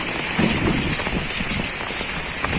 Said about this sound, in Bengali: চারোদিকে সারাদিন বেশি বৃষ্টি হচ্ছে